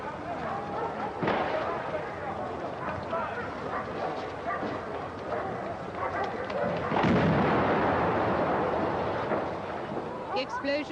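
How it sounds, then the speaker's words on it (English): A bomb explosion during an SAS hostage rescue sounds as heavy, muffled booms, with one sharp blast early and a larger rumbling burst later, under ongoing talk and other commotion. "That was a bomb."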